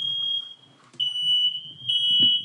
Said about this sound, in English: What is going off? The fire alarm?